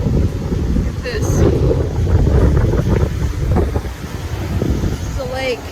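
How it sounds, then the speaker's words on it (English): Strong, steady wind at Lake Tawakoni buffets the microphone with loud low rumbling for the whole stretch, over lapping water, while someone talks throughout. "Y'all, this wind is legit. Ooh, it's so windy."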